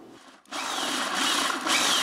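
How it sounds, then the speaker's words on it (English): A power drill whines up after a short pause and bores steadily through a 5-gallon plastic bucket with a continuous, close grinding buzz. "I'll just drill the vent holes"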